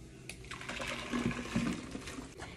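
Blended cucumber agua fresca poured from a blender into a jug, a steady close splashing and gurgling liquid stream with small clinks and a louder knock at the end.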